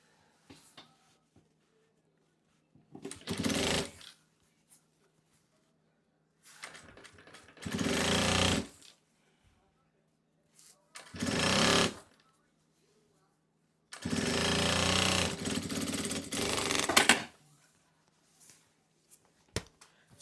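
A domestic sewing machine stitches the bias binding on a fabric notebook cover in four separate bursts, with the longest run near the end. The whirring stitching is close and moderately loud, and quiet pauses fall between the runs.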